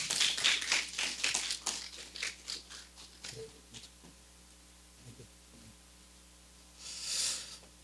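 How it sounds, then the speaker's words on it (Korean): An audience applauds to welcome an author-speaker at a book talk, with a dense burst of clapping that thins out and fades, then a short second swell of claps near the end. "박수 부탁드립니다."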